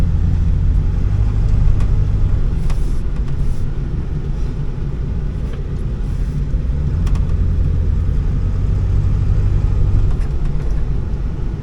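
A Ford F250 pickup with a 7.3 diesel Powerstroke engine rumbles steadily while driving, a loud low drone with road noise heard from inside the cab, even and continuous throughout with no talking.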